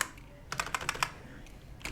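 Quick keystrokes on a computer keyboard while coding JavaScript, a burst of close, crisp taps in an irregular rhythm, then a pause and a few more clicks.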